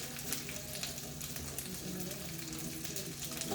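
Sausages fry in a pan with a faint, steady sizzle and crackle, quietly audible alongside soft kitchen noises.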